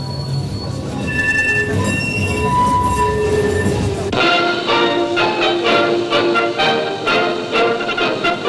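A train passing close by, loud and steady, with high wheels squealing on the rails, then a shift to a dense rumble and clatter of railroad cars rolling past, with no voices.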